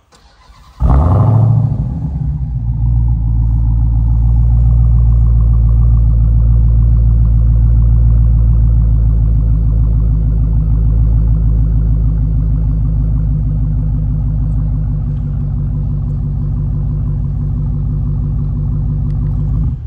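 A 2023 Dodge Challenger Hellcat starting up with a loud crank and bark, then settling into a deep, steady rumbling idle close by, with a slight pulsing burble throughout.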